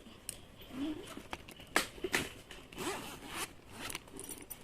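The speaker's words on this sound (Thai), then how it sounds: "ซิปตรงนี้" Zipper on a large blue Anello bag drawn open in several short rasping pulls, close and fairly quiet, with faint rustling between strokes.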